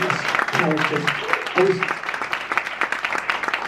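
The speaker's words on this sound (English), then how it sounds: "So a big round of applause for Jamie Wilson" A launch-event audience in London applauds, the dense clapping filling the room while a voice talks over it near the start and again around the middle.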